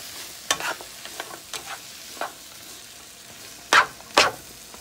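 Mushrooms are stirred in a frying pan while cooking for Jamaican jerk chicken rasta pasta, with soft sizzling under a few sharp scraping stirs and clatters, two louder near the end, and no voices.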